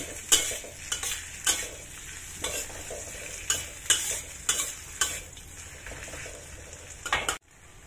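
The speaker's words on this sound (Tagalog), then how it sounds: "I-fry lang muna natin yan bago hanggang sa lumabas yung aroma ng garlic at saka onion" Garlic and onion fry in a pan, a steady sizzle broken by rhythmic scraping stirs roughly every second, close and clear, ending abruptly, with no talking.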